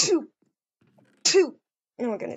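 A single sharp sneeze bursts out in a room in the middle of the clip, set between short bits of nearby talk from people present.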